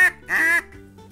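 A Sure-Shot duck call blown to imitate a duck, giving two short nasal quacks close by, the second longer than the first.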